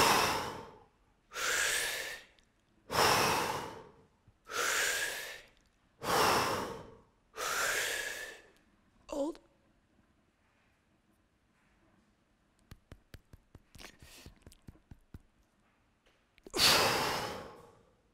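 Slow deep breaths during a breathing exercise, six strong breaths in a steady rhythm, then a quiet stretch with faint crackling and one last deep breath near the end, close and alone.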